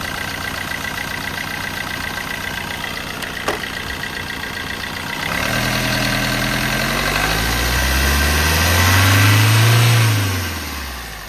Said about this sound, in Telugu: సార్, ఇంజన్ వచ్చేసి చాలా స్మూత్ అండ్ సైలెంట్ ఉంది.